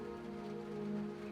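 Soft, steady rainfall at night, a faint, even patter under a low hum, calm and continuous throughout.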